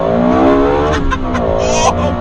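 A Lexus LFA on a race track revs hard, its high-pitched engine note climbing and falling in quick loud sweeps close by.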